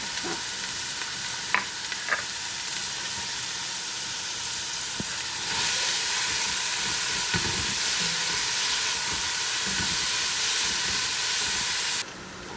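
Onions frying in oil in a pan for a lentil dish, a steady broadband sizzle that grows louder partway through, with a few brief clinks and stirring knocks, no voices.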